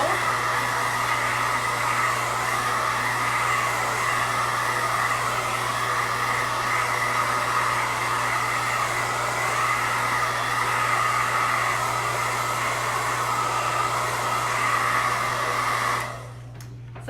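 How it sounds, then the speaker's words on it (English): A hair dryer blows with a steady, loud roar and low hum, running continuously before switching off at the very end. "I'm gonna use my blow dryer."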